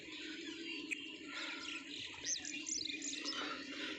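Small birds chirp and tweet in quick, light calls on a cold morning beside mustard fields, fairly faint over a soft, steady outdoor hush.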